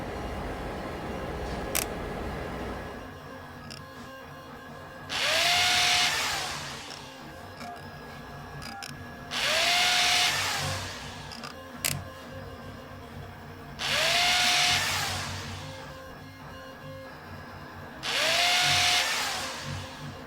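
A video-game electric drill fastens the joints of a robot backpack frame: four separate whirring bursts, each about a second and a half long, ending in a rising whine, spaced evenly over a steady hum with no talking.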